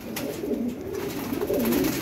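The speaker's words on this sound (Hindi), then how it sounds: "ये देखें गोल्डन कबूतर" A golden pigeon coos softly and low, repeating in a throaty rolling pattern over steady background hiss, close by and moderately loud.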